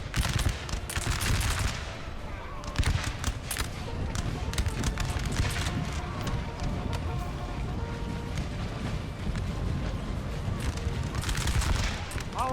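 Musket volleys crackling from massed infantry lines in the Napoleon Total War battle game, dense overlapping rattling gunfire in bursts, loud and continuous with battlefield din.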